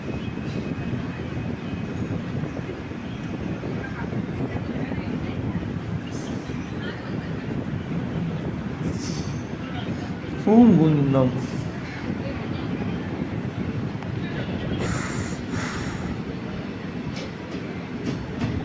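A passenger train pulls into Poonkunnam railway station in Thrissur, its steady rolling rumble filling the scene, with a sharp wheel squeal midway and a voice speaking briefly.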